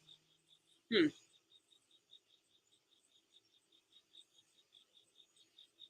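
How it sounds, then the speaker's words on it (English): Crickets chirp at night in a steady rhythm of short pulses that carries on through the whole stretch, faint against quiet, with a single brief loud thump near the start. "that was a really cool, quiet moment with literally crickets"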